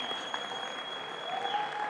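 An audience at a tech product reveal event claps in steady, moderately loud applause throughout the short stretch.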